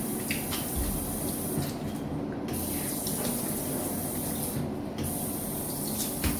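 Running water from a sink tap gushes steadily as a cleaning pad is rinsed under it, loud and close, with two brief dips in the flow and no one talking.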